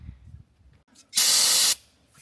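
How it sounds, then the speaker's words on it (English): A single loud burst of brake cleaner spray hisses for about half a second. It follows faint handling noises while cleaning around a hole on a hay mower. "Use some brake cleaner."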